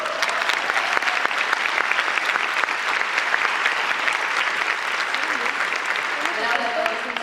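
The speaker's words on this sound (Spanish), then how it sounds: "así que recibámosla con un fuerte aplauso." An audience at a conference applauds to welcome Canon Mexicana's marketing manager, a sustained even clapping throughout, with a voice faintly beginning near the end.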